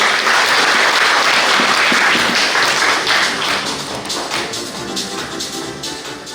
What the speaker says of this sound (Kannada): ಒಂದು ಜೋರಾಗಿ ಚಪ್ಪಾಳೆ